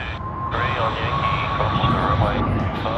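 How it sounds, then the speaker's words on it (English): Airbus A380 airliner taxiing at Sydney Airport, a steady loud jet-engine roar with a whining tone held throughout, with faint voices mixed in. "We already see one A380 just taxiing past in front of us."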